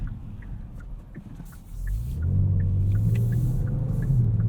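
A Kia Stinger GT2 AWD V6 revs against the brakes for a boosted launch, the low engine drone swelling at about two seconds into a loud, sustained rising rumble, with faint rhythmic ticking above.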